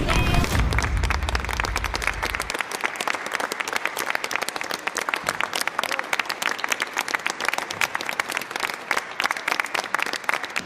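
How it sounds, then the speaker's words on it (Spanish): Sustained applause from a crowd outside a courthouse as a woman departs, dense and steady throughout, with an opening burst of low rumble and murmuring voices mixed in. "Cada día, Giselle se retiraba de tribunales entre aplausos"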